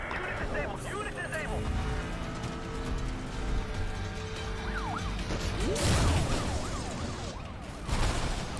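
A police car siren in Need for Speed The Run wails in rising and falling sweeps beneath heavy engine roar, crash impacts and someone talking, in a Rocky Mountain race stage.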